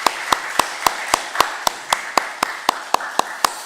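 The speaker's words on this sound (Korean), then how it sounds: "우리 환영의 박수 우리 같이 하겠습니다" A church congregation claps together in welcome for a newly arrived young man at a Baptist Sunday worship service, a steady rhythmic beat of about a dozen even claps over a soft room hum.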